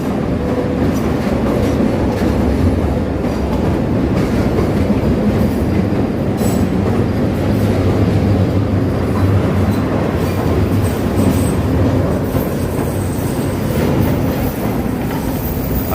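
A Chicago L Orange Line train bound for Midway rounds the elevated bend at Lake and Wabash, a loud steady rumble of wheels and cars on the track with faint squealing, continuous and close.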